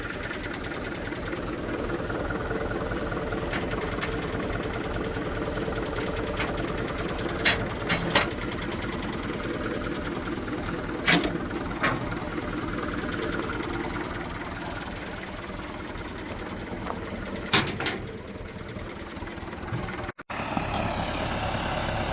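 A motorcycle engine runs steadily on a backyard moto track, a continuous buzzing drone with a few sharp clanks and knocks scattered through it, with no talk.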